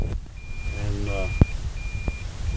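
A Toyota Prius reversing beeper sounds three thin, high-pitched beeps at an even pace, fairly faint, over a low background rumble and a brief murmured voice.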